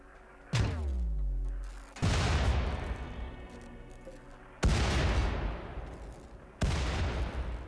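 Colonists firing weapons at a cluster of attackers in the colony game Rimworld, four heavy booming shots spaced a second or two apart, each ringing out and decaying, with no talk over them.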